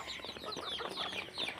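Chickens cluck in a steady, busy chorus while being fed in the morning, with overlapping calls and faint wing flaps close by and no voices.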